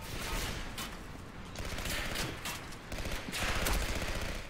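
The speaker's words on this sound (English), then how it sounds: "Where are we getting shot from, for real?" Dense, rapid gunfire crackles continuously in the video game Legendary, a steady wash of shots and bursts with no voices.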